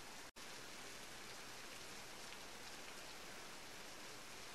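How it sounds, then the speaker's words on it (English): Rain falling in the game Beasts of Bermuda, a steady, even hiss of heavy rainfall that continues without pause after a brief dropout at the start. "The rain appears to be picking up further."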